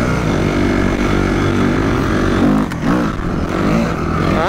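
A Mobra motorcycle fitted with a replacement 200 or 250 cc engine runs loud and close, with a raspy engine note that climbs and dips through several quick revs.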